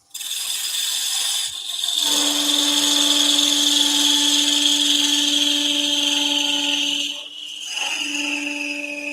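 A wood lathe spins while a toadstool nutcracker is parted off. A steady, loud mechanical whine with a high tone runs throughout, dipping once near the end as the speed shifts, with no voices.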